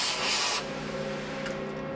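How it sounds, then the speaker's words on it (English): A short, loud hiss of compressed air blown into the spindle of a Mori Seiki ZT2500Y lathe for cleaning, cutting off after about half a second and leaving the machine's steady hum with a faint brief puff afterward. "I'm gonna have to shoot some air in there"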